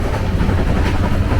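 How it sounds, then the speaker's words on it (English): Train bound for Guwahati in northeast India rumbling along the rails, a steady, dense low roar with constant rattle, close and continuous throughout. "Still on the train to Guwahati."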